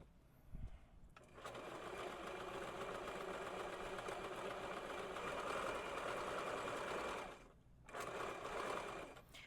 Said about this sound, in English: So go ahead and add the basting stitch